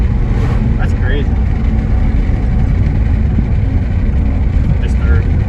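Mitsubishi 3000GT engine droning steadily from inside the car while driving, a continuous low rumble with road noise throughout and faint shifting sounds, loud and close.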